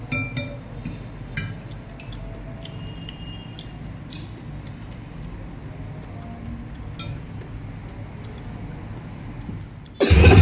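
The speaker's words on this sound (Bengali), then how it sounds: "কাশি যেন যেতেই চাচ্ছে না" Several sharp coughs recur throughout a Bangladeshi home during a family meal, over a steady low background hum with faint clinks of dishes and cutlery, until a loud burst at the very end.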